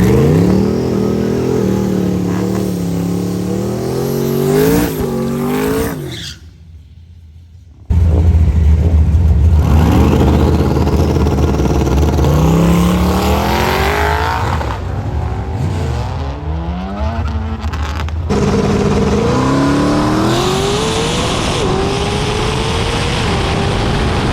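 Drag race car making a pass down the drag strip, a loud engine roar that climbs in pitch through several gears, cuts out briefly, then returns at full power and keeps revving hard until the end.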